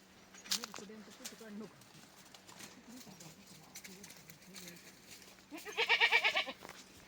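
A goat bleats loudly and close near the end, a wavering cry following quieter talking and faint rustling.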